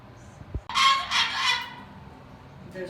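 A pet bird calls with a loud, harsh rooster-like crowing burst lasting about a second, preceded by a brief low thump and followed by quiet room tone, with no talking.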